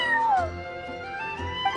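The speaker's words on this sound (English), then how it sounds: "I'm sorry, that's my neighbor's cat." Charcoal, a neighbor's cat in the Genshin Impact game, gives a couple of drawn-out meows with rising and falling pitch over a soft musical backdrop, close and fairly clear.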